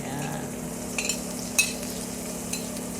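Onion dropped into garlic already frying in a pan, a steady close sizzle with a few sharp clinks and stirring scrapes, no talking.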